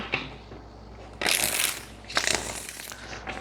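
A deck of tarot cards is shuffled by hand in two quick, close rustling bursts separated by a short pause, with no talking.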